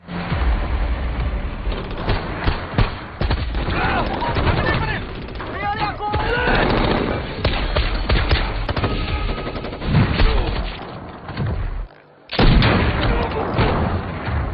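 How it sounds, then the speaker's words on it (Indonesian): Gunfire in a shootout between soldiers and separatist militants on a remote island in the 2023 action film Plane, dense bursts of loud rapid shots and machine-gun fire with mechanical clatter, mixed under someone narrating, with a brief silent break near the end. "aksi saling tembak yang kedua kalinya pun kembali terjadi"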